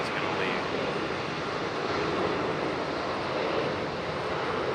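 A Lufthansa airliner departs Raleigh-Durham International, its broad, steady engine roar filling the scene at close range and holding loud and even throughout, with a voice speaking at times beneath it.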